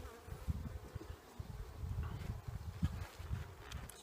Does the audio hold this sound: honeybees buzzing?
yes